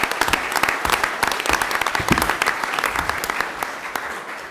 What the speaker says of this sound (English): Let's give them, our judiciary, a round of applause.